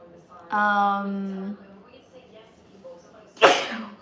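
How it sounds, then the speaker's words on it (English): A single sharp sneeze bursts out near the end, preceded by a short sustained vocal sound and quiet room noise. "Sorry, the candle is making me sneeze."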